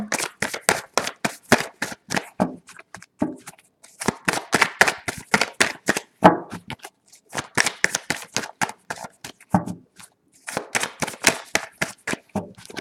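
Tarot cards are shuffled and drawn in bursts of rapid riffling flutters and sharp slaps, close and clear, with short pauses between shuffles and no talking.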